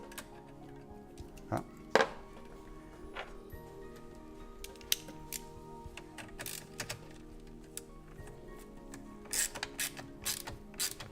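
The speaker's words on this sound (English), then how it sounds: "Let's tighten down that 10 millimeter." Ratchet tightening a 10 mm nut on the battery terminal of a 2016 Kia Sorento, giving quiet, sparse clicking strokes with a few sharper ticks, close by and faint.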